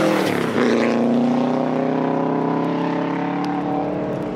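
Rally car at full speed on a forest stage, engine screaming in a loud sustained drone with steady high pitch, slight shift near the start, no voices.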